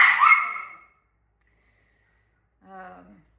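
Small dogs give two short, sharp barks or yips a couple of seconds apart, close by. There is silence between them.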